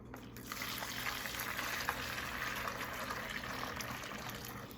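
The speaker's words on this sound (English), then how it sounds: "I'm going to now pour my water" Boiling water poured into a bowl, a continuous soft splashing trickle with a faint hiss running steadily for several seconds, quiet and close, with no voices.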